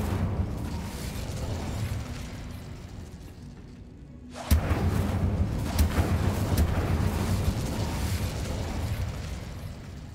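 Incendio fire spell cast in Hogwarts Legacy, a sudden burst and whooshing blast erupts midway over continuous game ambience, followed by a sustained crackling roar with scattered pops.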